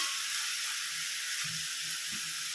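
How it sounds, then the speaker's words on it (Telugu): Cut pieces of dry salted fish fry in a pan with a steady, bright hiss and sizzle, with a few faint low knocks underneath. "ఉప్పు చేపలు కట్ చేసి పెట్టుకున్నాం కదండి, అవి వేసుకొని ఫ్రై చేసుకోవాలి"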